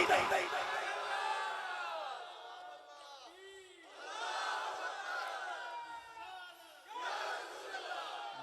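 A large crowd at a religious sermon gathering chants back in unison in response to the call of Naara-e-Takbeer, loud massed voices swelling in three long sustained waves.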